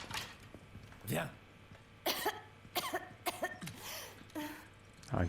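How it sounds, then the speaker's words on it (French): A person coughs repeatedly in harsh bursts in the video game Resident Evil 4 Remake, with a low ambient hum underneath and voices speaking between the coughs. "Arrête pas de tousser, c'est pas bon."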